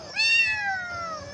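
A cat gives one clear, close meow that rises and then slowly falls, heard alone against quiet background noise.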